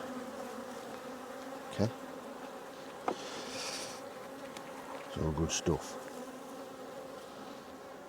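Honey bees swarm around an opened hive, a faint, steady buzzing that fills the air, with a few short knocks and a brief spoken remark over the drone.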